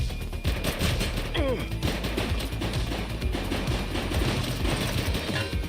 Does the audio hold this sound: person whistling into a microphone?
no